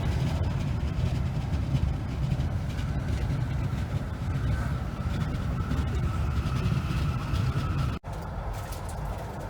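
Continuous low rumble and rattle of a train rolling along the tracks to Haifa, Israel, steady throughout with a brief dropout near the end.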